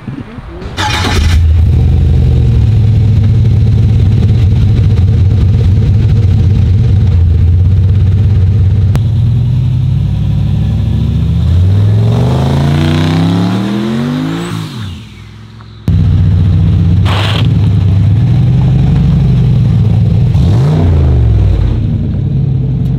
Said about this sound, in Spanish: That's my first turbo truck.